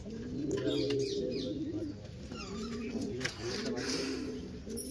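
Pigeons cooing in low, rolling phrases, steady and close, with other birds chirping faintly and people talking over them.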